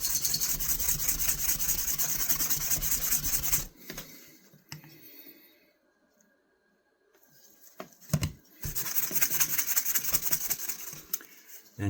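Quick hand rub polishing a knife with 2000-grit abrasive, a steady close rasping scrape that stops for a few quiet seconds, gives a brief knock, then resumes strongly.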